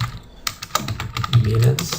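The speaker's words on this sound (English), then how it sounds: "So let's type here" Quick clicks of typing on a computer keyboard, a short burst of close keystrokes while a person talks over them.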